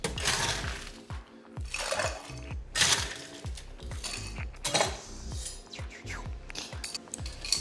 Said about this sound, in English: Then you wanna give this a good old stir.